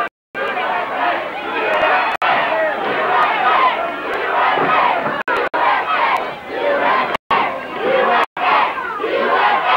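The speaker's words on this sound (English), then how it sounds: "A tremendous crowd on hand, and they are pumped, and they are into this one." A packed crowd at a 1991 six-man tag team wrestling match yells and cheers continuously, loud and dense throughout with brief cuts.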